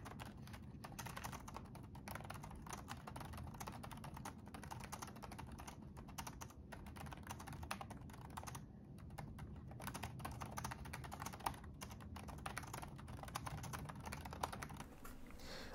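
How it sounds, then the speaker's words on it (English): Fast, continuous key presses clatter on an HP 15-inch laptop keyboard, quiet and close, with no talk over them. "So let's go ahead and test out the keyboard."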